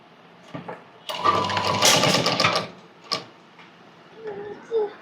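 A sewing machine stitches a cross cut blouse in a short burst of about two seconds, followed by a brief second whir. Quieter handling sounds and a faint voice trail after it.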